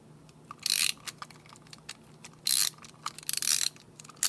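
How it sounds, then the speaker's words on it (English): A ratcheting screwdriver works on a pepper grinder, giving quick, light clicks close by, with a few brighter rasping bursts as the ratchet turns, against a quiet background. "Neat little ratcheting screwdriver I've got here."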